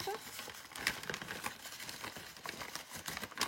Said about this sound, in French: alors je remets juste dans l'enveloppe